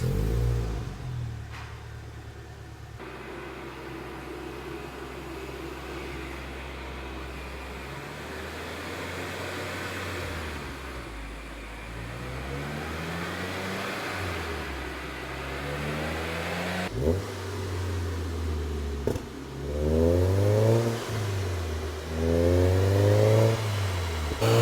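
Mazda MX-5 engine revving after an ECU remap, a steady mid-pitched idle rising into repeated throttle blips and climbing revs, loud and close with no talking.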